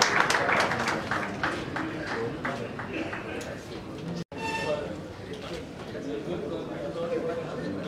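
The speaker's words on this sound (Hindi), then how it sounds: "उनका बहुत बहुत स्वागत है, तालियों के साथ हम स्वागत करें" An audience at a poets' gathering (kavi sammelan) in Mira Bhayandar claps to welcome a poet: lively, sustained applause with a voice over it, a brief dropout near the middle, then the crowd sound continues steadily.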